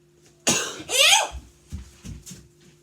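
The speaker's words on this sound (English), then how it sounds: "Stop coughing on me and then I won't leave, germ bag." A person coughs in a few harsh bursts at close range, with a strong hacking cough followed by smaller coughs and faint throat sounds and a low steady hum in the background.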